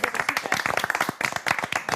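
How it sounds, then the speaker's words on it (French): People in a studio audience clap in a quick, uneven burst of applause, close and lively, with talk overlapping. "J'ai envie de vous applaudir."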